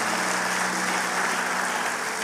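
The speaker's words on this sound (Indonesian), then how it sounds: "Kasih tepuk tangan buat Allah kita." A church congregation applauds during a worship service, a steady, dense wash of clapping that fills the whole short stretch at an even level, with a faint steady hum underneath.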